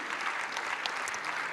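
An audience at an awards event applauds trophy winners, a steady, even wash of many hands clapping at moderate volume in a hall, brief and without voices over it.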